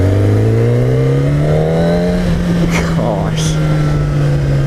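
A 2015 Kawasaki Ninja ZX-10R sportbike engine runs steadily while being ridden, its pitch climbing and then holding. Loud, close drone with wind rush and a voice talking over it.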